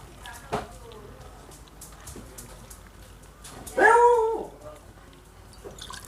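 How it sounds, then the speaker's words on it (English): A dog barks and whines somewhere at the back of a home, a short yelping burst standing out briefly above quiet room noise while coffee is being prepared. "my dog is barking at the back"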